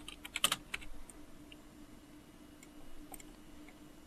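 A burst of quick computer keyboard keystrokes in the first second, then a few scattered clicks over a quiet room tone, with no talk.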